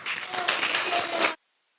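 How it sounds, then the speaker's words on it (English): Audience applause after a talk at a community tech meetup, a dense burst of many hands clapping for over a second, then stopping abruptly into silence. "Let's give her a round of applause."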